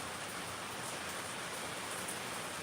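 Steady rain falling outdoors, a soft even hiss of drops with no break and no voices.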